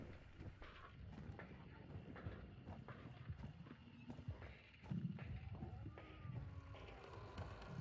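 Horses clip-clop with irregular hooves in the Hunt: Showdown video game, a mid-distance stream of steps with a brief neigh or snort, faint and continuous for several seconds.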